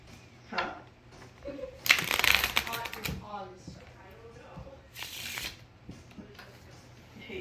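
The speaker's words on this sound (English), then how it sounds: "Gonna start shuffling." Playing cards are shuffled in quick riffling bursts, two louder crackling runs of flapping cards close by, with people talking over and between them.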